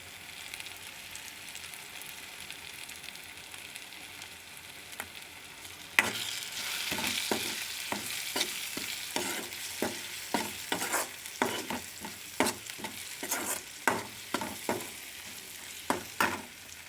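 Tomato and turmeric powder cooking in a pan for prawn gongura curry; a quiet simmer turns into a louder sizzle, then a spoon repeatedly scrapes and stirs in a steady rhythm, close up, without talking.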